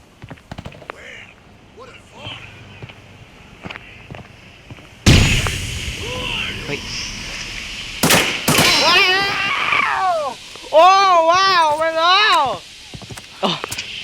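Gunfire in the shooter video game Arena Breakout: sudden loud bursts of shots cut in midway after quieter talk, followed by further sharp cracks, with a person speaking excitedly throughout.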